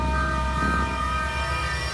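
Hitler's train rolls along with a steady low rumble, overlaid by sustained whistle-like tones that hold throughout.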